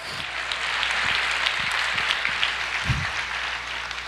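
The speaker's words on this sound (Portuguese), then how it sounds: "Aplaudam o Senhor" A church congregation applauds with a dense, steady wash of clapping that holds evenly from start to finish, loud and close, with no voices over it.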